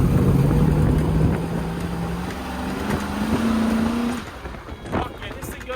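Ford Bronco with a 351 engine driving, a steady loud engine drone with rising pitch as it accelerates, then easing off near the end while a voice talks over it.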